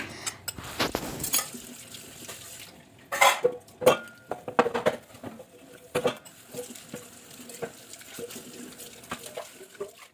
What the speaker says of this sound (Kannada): ಇವಾಗ ಪಾತ್ರೆನ ನೋಡಿ ತೊಳಿತಾ ಇದ್ದೀನಿ